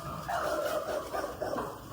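Dog barking at household scale, a run of repeated barks and yips over about two seconds, moderately loud and close, with no talk over them.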